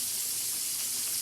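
Meat frying in a cast iron skillet, giving a steady, dense hiss that runs without break and stays fairly quiet.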